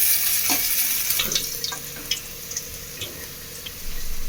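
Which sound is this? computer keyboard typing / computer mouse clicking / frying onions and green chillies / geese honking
frying onions and green chillies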